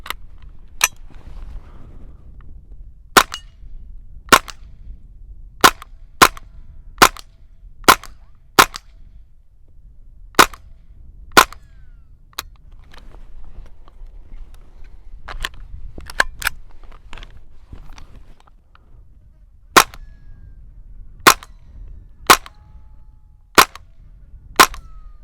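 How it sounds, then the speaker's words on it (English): Rifle fire with a red dot sight is aimed at small steel gongs and tins. Roughly seventeen sharp, loud cracks ring out at irregular intervals over quiet outdoor background, with no talking. "to do some shots down at the little targets I've got down here, some little gongs and a couple little tins as well"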